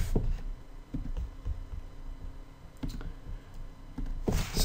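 Typing on a computer keyboard, with light irregular key clicks in short clusters, fairly close but soft, over a steady background hiss.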